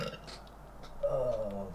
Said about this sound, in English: it's crazy when I hear people just burp like that